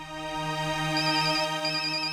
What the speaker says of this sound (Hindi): ऑफिस से फोन है, मुझे जाना होगा।